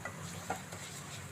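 Mung dal frying in a pan, stirred with a utensil, gives a faint, steady sizzle with a soft scrape or two over a brief moment.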